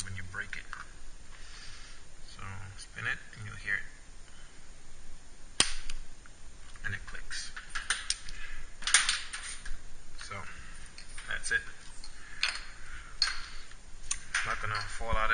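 Scattered sharp clicks and ticks as a Honda Civic hatchback SRS clock spring is spun and seated in its groove, irregular and close, mixed with handling noise and some quiet talk.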